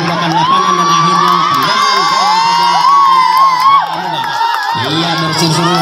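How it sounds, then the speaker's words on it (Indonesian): Loud crowd of roughly two thousand Jamuga supporters at a village football tournament match, shouting and cheering continuously with whistles and whoops rising over the din, briefly dipping before surging again. "bersiul bersorak-sorak para pendukung dari Jamuga"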